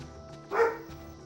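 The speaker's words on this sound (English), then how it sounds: "Nima, stop barking." A pet dog named Nima lets out one short, loud bark close by, standing alone against a low background hum.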